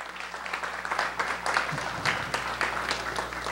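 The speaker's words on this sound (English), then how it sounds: "can we have a round of applause for them?" Audience applause at an evening science café talk: a dense patter of many hands clapping steadily at moderate volume, with a few louder claps poking through, continuing for a few seconds.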